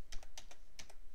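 Quick bursts of keystrokes on a computer keyboard, about five or six close taps in uneven rhythm, with no voices.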